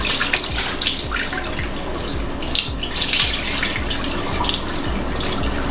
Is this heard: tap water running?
yes